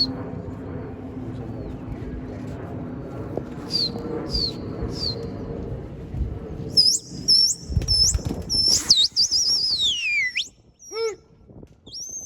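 A flock of pigeons bursts into flight with loud, rapid wing flapping. Before that there is a low outdoor rumble and a few short chirps, and high squeaky calls follow near the end.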